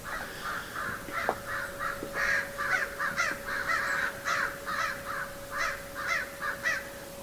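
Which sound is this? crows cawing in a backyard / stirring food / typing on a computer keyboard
crows cawing in a backyard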